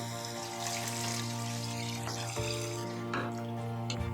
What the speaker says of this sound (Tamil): ஒரு பெரிய சைஸ் எலுமிச்சம்பழம் சைஸு புளி எடுத்து கரைச்சி வச்சுருக்கோம்மா. இப்போ இதை ஊற்றிக்குங்க.